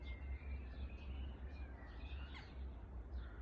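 Birds call from larch trees on a chilly May evening in Scotland, with faint scattered chirps and short squawks over a low, rumbling wind bed.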